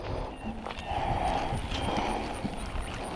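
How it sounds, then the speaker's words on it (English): Horses being ridden clip-clop at a walking pace nearby, with soft irregular hoof knocks over outdoor ambience and faint background noise. "but I think I might just hang out here so I can watch Sweet Maya ride the horses"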